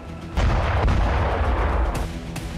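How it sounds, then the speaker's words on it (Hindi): A drone strike explosion hits a Russian anti-aircraft missile regiment headquarters, heard as a heavy booming blast with a deep rumbling roll, followed by sharper cracking bursts, loud and sustained. "यूक्रेन ने रूस के एंटी एयरक्राफ्ट मिसाइल रेजिमेंट के हेडक्वार्टर पर ड्रोन विस्फोट किया।"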